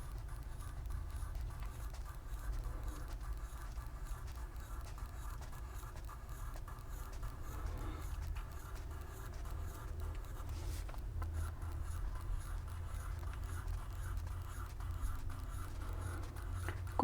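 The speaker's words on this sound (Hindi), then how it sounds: "एक बार ये वाला पैटर्न लिख लेते हैं एक लाइन में।" Pen writing a repeated cursive handwriting pattern on paper during a handwriting practice lesson, a soft continuous scratchy rubbing that runs steadily along the line without talk.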